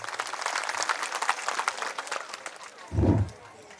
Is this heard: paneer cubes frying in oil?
no